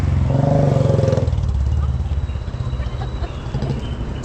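A car setting off after a hospital visit, its engine idling with a low rumble and then pulling away, close and steady.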